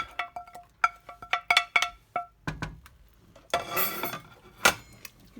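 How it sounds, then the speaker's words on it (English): Vegetables go into a soup pot for a creamy oats soup, with sharp metallic clinks and taps of a utensil against the pot, a few scattered knocks, then a brief rustling stir and a final clink. "And now I'm going to add all the vegetables"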